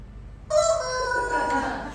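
A chicken sound effect, in which a rooster-like crow or squawk bursts in loudly after a moment of quiet and holds with bright, strained tones over low background noise.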